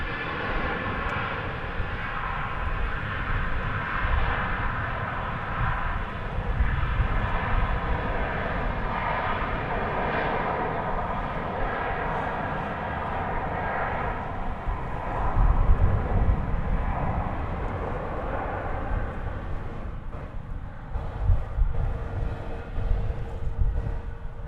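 An Air France airliner at DFW Airport, heard as a continuous jet engine roar at moderate distance that swells slightly midway and persists without talk.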